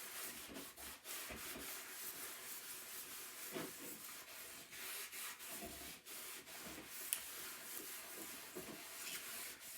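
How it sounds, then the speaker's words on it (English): Wax being buffed by hand across a chalk couture double-sided surface, a steady close rubbing and scuffing with brief stronger strokes, no talking. "Now I'm going to buff it."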